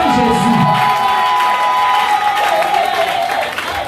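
A church congregation cheers and acclaims Jesus during a prayer service, a loud, sustained wash of crowd shouting, whoops and applause that fills the whole moment without letup.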